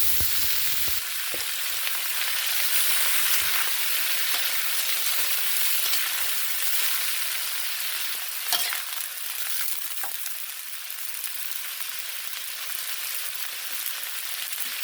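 Shallots and vegetables stir-frying in a pan for Chaiya-style stir-fried greens, a steady loud sizzle with occasional clinks and scrapes of a utensil stirring, no talk.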